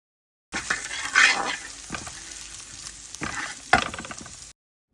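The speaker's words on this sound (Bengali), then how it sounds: "আদাটা আমি ভালোভাবে ভেজে নিব।" Ginger paste sizzles steadily in hot oil in a pan for a mustard fish curry, loud and close, with several scraping stirs of a spoon breaking through the frying hiss and no talking.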